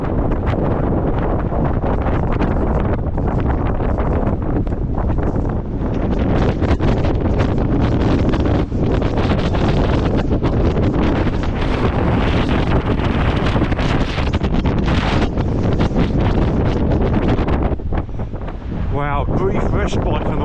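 Strong, constant wind roars and buffets across the microphone on an exposed stretch of the Southwest Coast Path between Newquay and Constantine Bay, a dense, unbroken rush that fills the whole stretch and barely eases near the end.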